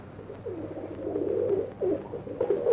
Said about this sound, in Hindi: बहुत देर से देख रहा हूँ ये कबूतर बड़ा सुस्त नजर आ रहा है।